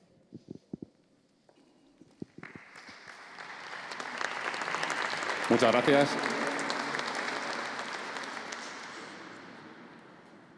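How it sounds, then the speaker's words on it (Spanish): An audience at a European dialogue event breaks into applause after a short spoken thanks and a few scattered claps; the clapping swells to a full, close crowd roar, then slowly thins out. "Está bien esto de que te aplaudan antes de empezar."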